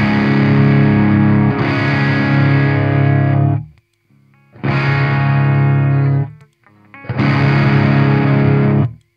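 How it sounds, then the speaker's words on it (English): Electric guitar chords from a rock player's rig run through a compressor pedal, three loud, even, distorted strums each ringing out for a couple of seconds, separated by short quiet gaps. "So you hit the compressor and it brings all the volumes in line and you get this."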